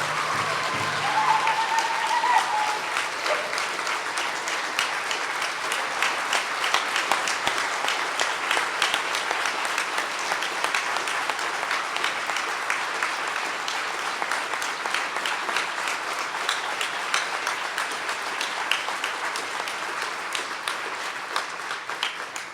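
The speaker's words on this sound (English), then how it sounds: "I think they deserve a round of applause just for being able to make it up here." Conference audience at an Indigenous engagement gathering applauding, sustained dense clapping from a crowd that holds steady throughout, with a faint voice near the start.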